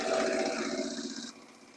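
Embroidery machine stitching a shirt: a dense, continuous mechanical whir with rapid needle chatter, steady and close, easing to a quieter hum near the end, with no talking.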